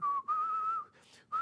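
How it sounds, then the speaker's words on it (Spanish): A single person whistles a mambo tune, a few sustained, slightly wavering notes in short bursts, close and clear, with brief breaths between them. "Silbando mambo."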